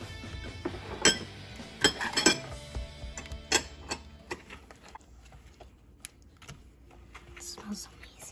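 Chocolate chip cookie dough mixed in a bowl with salt makes intermittent clinks and scrapes of utensil on the bowl, close and sharp, under soft speech.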